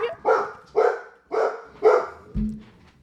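A dog barks five times in an even rhythm, each bark loud and close with a brief pause between, and a short low thump after the last bark.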